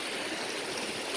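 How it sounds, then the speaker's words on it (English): Floodwater about two feet deep rushes through a farm after torrential rain, a steady, loud, continuous roar of running water with no pauses. "that's a lot of water running through"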